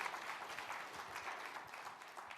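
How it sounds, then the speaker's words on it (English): Audience applause at a Legatus keynote talk, a dense, steady patter of many hands clapping at moderate distance, with no one speaking. "You can clap."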